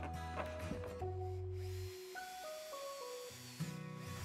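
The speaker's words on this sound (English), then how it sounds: "I'm securing it using the same screws, both to the poles, as well as to the existing structure" Power drill driving screws into wooden climbing frame poles, a steady whirring drone that steps through changing pitches in several short runs, fairly close and alone.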